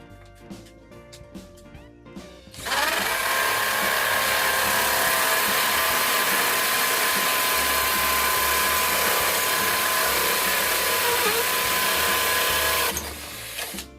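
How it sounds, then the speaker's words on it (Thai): A Ronix 8018 cordless hammer drill in hammer mode on high gear bores into red brick with a 10 mm masonry bit, a loud close continuous buzzing rattle sustained for about ten seconds after some quieter handling. "ในการเจาะที่อิดแดงนะครับมือเดียวเนี่ยสามารถเจาะได้สบายๆเลยครับ"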